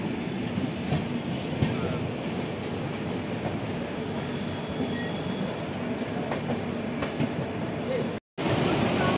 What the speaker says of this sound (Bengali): 1489 কিলোমিটার যাত্রা করে এসে ট্রেন এখন এসেছে তার গন্তব্যের 9 নম্বর স্টেশন সাহারানপুরে।